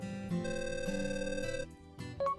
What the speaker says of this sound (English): Suddenly, I got a phone call.